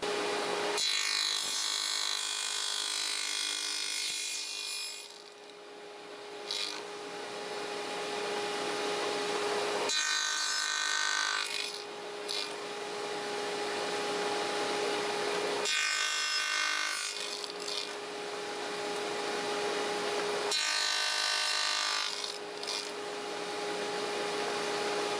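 A saw cuts box joint notches in a wooden board, sounding as four loud, close bursts of whining cutting, each several seconds long, separated by quieter gaps with a faint steady hum underneath.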